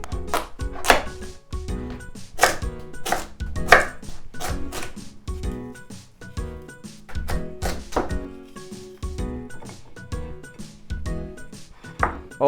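Knife chopping eggplant, sweet potato and pumpkin into slices for Japanese home-style tempura, a steady run of close, crisp thunks on a cutting board with brief pauses between bursts.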